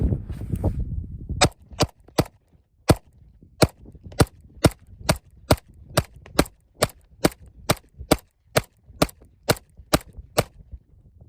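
Handgun shots from a 2011-style pistol with a 20-round magazine ring out one at a time in a steady rhythm, about twenty sharp, loud reports spaced roughly half a second apart after a brief stretch of rumbling noise.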